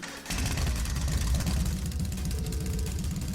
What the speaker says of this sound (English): first is starting up the engine